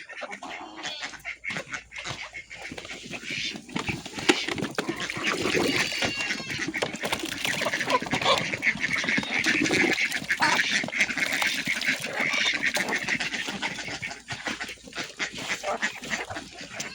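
A flock of ducks kept with native chickens for sale makes a dense, continuous chorus of quacks and clucks at feeding time in the afternoon, close and busy throughout with no talking.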